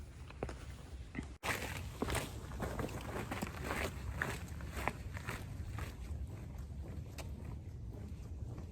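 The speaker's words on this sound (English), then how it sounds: "So we just crossed over the first little bridge here." Footsteps crossing a small bridge on a wetland trail at Mason Neck State Park, Virginia: steady close footfalls over a bed of wind noise, with one sharp break early on.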